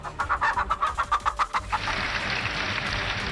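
Domestic desi hens cluck in a quick rhythmic series of about a dozen close calls, then give way to steady broadband noise.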